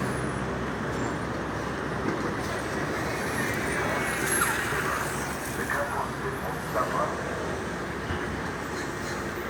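Steady city street traffic on King George Street in Jerusalem, with a city bus rumbling close by amid continuous road noise, engines and passing vehicles, while voices talk over it.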